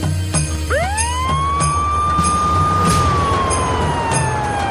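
An ambulance siren leaving a US military base rises into a sustained wail that holds and then slowly falls, loud and close, over a background of truck and engine noise with a few sharp clanks.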